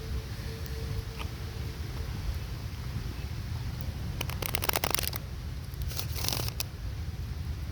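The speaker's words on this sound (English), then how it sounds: "Alright, we'll get you one more shuffle." Cards being shuffled in a few quick riffling bursts, crisp and close, over a low steady background hum.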